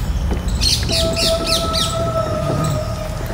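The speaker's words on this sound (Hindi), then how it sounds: "पक्षियों की आवाज़ भी क्लियर सुनाई दे रही है" Birds chirping outdoors in a quiet area, a run of bright repeated chirps close by over a steady background hum, with a long high tone held through the middle of the clip.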